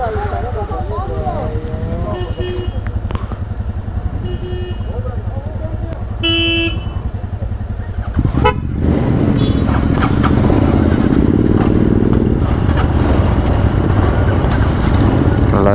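Royal Enfield Himalayan motorcycles start up and run together on a group ride to Madikeri. Voices chatter over a low idle at first, then several engines roar in about halfway through and keep running loud and close, with a short horn toot.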